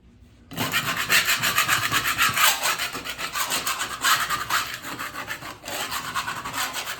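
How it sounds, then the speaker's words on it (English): Putty knife scraping old material off a wall in rapid rasping back-and-forth strokes, loud and close, nearly continuous after a brief quiet start. "Just like the plaster, moving the knife in a couple different directions just to get everything off of there."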